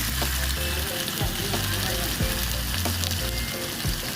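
Tofu and egg dry-roasting in salt in a pan: a steady, close sizzle and hiss runs throughout, with occasional soft scrapes of stirring.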